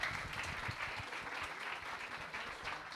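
An indoor audience at a school literary showcase claps for the organizers, steady dense applause for about three seconds with no talk.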